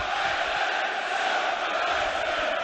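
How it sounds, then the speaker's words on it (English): Sheffield United supporters chanting together in the stadium at a Manchester City versus Sheffield United FA Cup match, a dense, steady roar of many voices that fills the whole stretch without a break. "the United fans making themselves heard, and Stuart McCall applauding"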